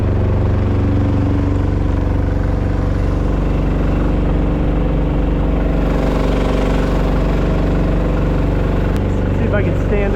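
A small boat's engine idles, pushing the boat along at decent speed on the water. It gives a loud, steady low drone and close mechanical rumble throughout, with wind and water noise over it.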